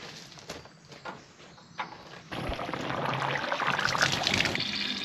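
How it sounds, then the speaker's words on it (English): Clean water is run through the cooling system of a Model A Ford, moving from quieter trickling and splashing into a steady, loud rushing pour that continues to the end. "Now that we've got the engine cooled down, let's flush it with some clean water."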